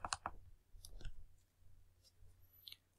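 A computer mouse is double-clicked to open the Mozilla Firefox browser, giving two quick, faint clicks right at the start, followed by near silence with a few soft ticks.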